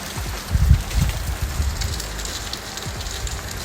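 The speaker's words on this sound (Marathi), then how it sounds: "इथे सध्या खूप जास्त पाऊस चालू आहे." Heavy rain drums steadily on a car sunroof in Ireland, a dense hiss with a few louder bursts of patter near the start, close and continuous with no talk.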